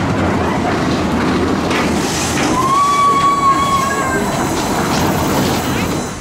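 A theme park ride train at Flamingo Land rolls along with steady rumbling and clatter, loud and close, while a rising whistle-like tone sounds briefly midway through.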